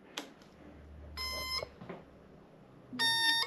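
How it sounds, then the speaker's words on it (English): A Kawasaki KZ900 motorcycle's turn signal warning buzzer beeps in two short bursts about two seconds apart, fairly faint against a quiet background with a few small knocks between them. "you can hear it beeping to let you know that they're on."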